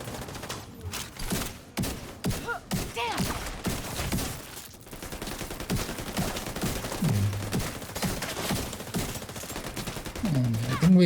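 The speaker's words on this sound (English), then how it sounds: "Multiple of their sniper turrets aiming at you is always very..." Several enemy sniper turrets in a video game fire repeated sharp shots in an irregular rapid volley, fairly loud, while someone talks over much of it.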